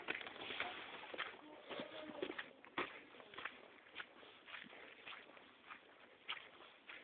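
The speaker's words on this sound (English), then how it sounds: "The birds are tripping." Birds coo and call softly outdoors, scattered over a faint background, with occasional light tapping sounds.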